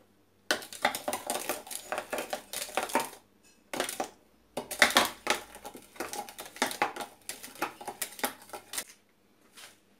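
A spoon stirs a strawberry and cream ice cream mixture in a bowl, producing repeated scraping clinks and soft knocks in irregular bursts, close and fairly quiet, with short pauses between strokes.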